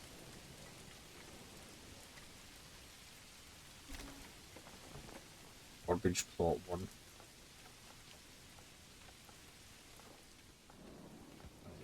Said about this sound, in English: Oh, we've got thunder and lightning as well.